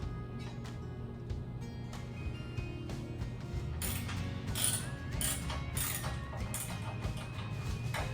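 A ratchet wrench loosens bolts on a Sole F80 treadmill during disassembly, producing rapid metallic clicking bursts that grow louder and busier in the second half over a steady low hum, with no speech.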